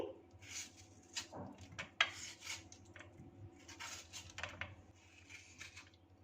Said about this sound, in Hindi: आम के गूदे को अलग कर लेंगे, बस रफली कटिंग कर लेंगे।